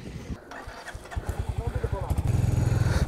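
Motorcycle engine firing up and settling into a steady, rapid chugging idle that grows louder toward the end, close by, with a little talk early on.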